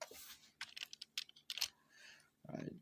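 Computer keyboard typing an Excel formula, quick bursts of close key clicks and taps with short pauses between them, no talking.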